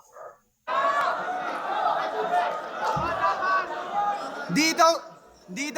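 Crowd noise at a live rap battle, a dense swell of shouting and cheering that holds for several seconds, with a few sharper yells near the end.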